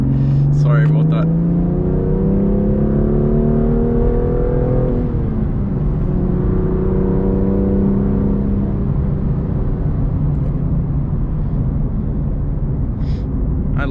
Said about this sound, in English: I love how this car sounds. I know a lot of people don't like the S55.